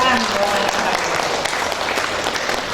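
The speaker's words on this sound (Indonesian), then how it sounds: "Tepuk tangan." Audience applause fills the room at a regional press gathering, a dense steady clapping that follows speech and carries on throughout.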